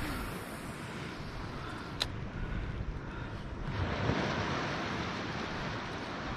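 Choppy sea surface along a Palawan fishing spot, a steady broad wash of rough water and wind without pause, with no distinct individual wave crashes standing out.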